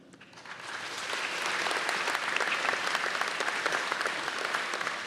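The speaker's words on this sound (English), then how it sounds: "he deserves a round of applause" Audience applause for a university vice president at a welcome event, rising from quiet over the first second into steady, dense clapping that holds at full strength through the end.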